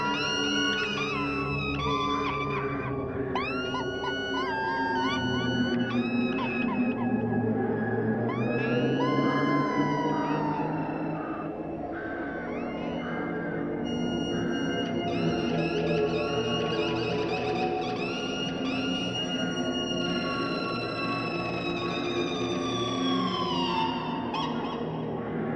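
The whale-like section of a song: eerie, swooping, high wailing tones that glide and bend over a sustained low droning bed, steady and fairly loud throughout, with no talking.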